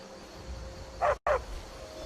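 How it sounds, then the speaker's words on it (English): Two short yips from a dog in Skyrim, a game village setting, sounding close and fairly loud as a quick pair with a brief gap between them over quiet ambient game background. "That's a dog."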